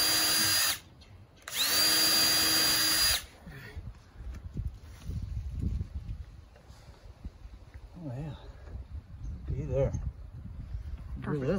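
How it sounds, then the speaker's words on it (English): A power drill works on a chicken coop in two loud whining bursts, the second longer. After that come quieter handling noises and people talking. "This drill might not be big enough."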